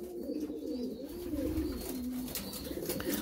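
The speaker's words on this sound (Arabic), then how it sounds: "كتسمعو كيبدا يهيج غير بالتبسبيس" A male pigeon coos excitedly near a female in a loft, giving a steady run of low, throaty rolling coos at close range.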